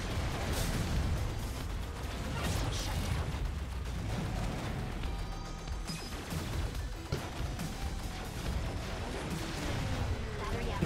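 Dense, continuous gunfire and explosions from the fast-paced shooter Assault Android Cactus, loud rapid blasts and crashes layered throughout with no pause.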